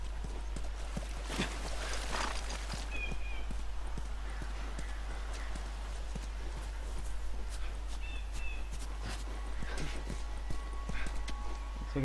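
Horse hooves clip-clopping in The Last of Us on PS4, a steady rhythmic run with a whinny or two, close and continuous over quiet game ambience with no talk.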